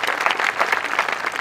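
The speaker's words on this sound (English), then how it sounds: "We can give him a round of applause" Audience applause at an outdoor school music concert, a dense, steady round of many hands clapping with light crowd murmur, fairly close and loud throughout.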